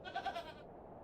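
A disagreeable goat in The Excavation of Hob's Barrow gives two or three short, close bleats in the first half second, then falls silent over a faint ambient hum.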